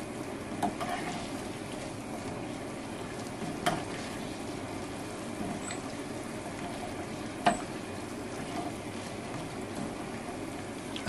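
Quiet, steady sizzling of dough frying in hot oil with a few soft clinks and taps, no talking.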